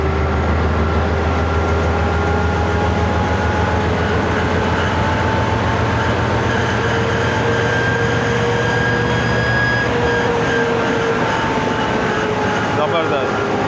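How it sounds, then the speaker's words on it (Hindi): Pakistani passenger express train standing with its locomotive just coupled, a steady loud low diesel rumble and hiss continuing throughout as pressure builds, with faint talk over it. "जनाब लोकोमोटिव हो गया अटैच, अब प्रेशर बनेगा और फिर ट्रेन रवाना होगी अपने मुकर्ररा वक्त पे।"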